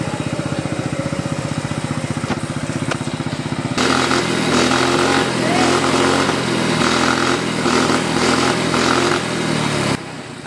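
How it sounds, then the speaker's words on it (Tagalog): A small scooter engine idles close by with a rapid, even putter after a tune-up and CVT cleaning, then runs louder and rougher for several seconds before dropping back. "pakinggan nyo kung gano'ng ka-smooth yung makina."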